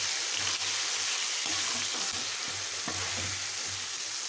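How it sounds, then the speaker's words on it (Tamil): Chili powder and spice powder sizzle steadily in hot oil for a Tamil tamarind kulambu with brinjal, with a constant close frying hiss and occasional stirring scrapes. "நல்லா ஃப்ரை பண்ணிக்கோங்க."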